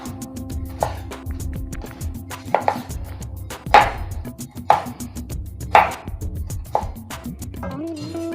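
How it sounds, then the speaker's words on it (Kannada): A knife chops ridge gourd on a cutting board in a steady series of crisp, close thuds roughly once a second, over a low background hum. "ಸೊ ಇದೇ ರೀತಿ ಎಲ್ಲನೂ ಕಟ್ ಮಾಡ್ಕೊಳ್ಳೋಣ"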